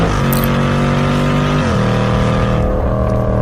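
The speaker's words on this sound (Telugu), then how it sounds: "ఒకరోజు తన బైక్ మీద ఎటో వెళ్తూ ఉన్నాడు." A cartoon motorbike sound effect: a loud, continuous engine drone whose pitch steps down in distinct stages like gear changes as the bike rides along.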